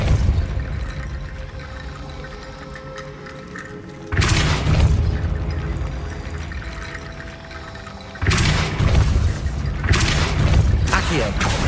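Spell blasts from the Hogwarts Legacy video game, Confringo and Depulso, land as two heavy booming impacts about four seconds apart, each with a rushing, splashy tail over a low ambient game bed.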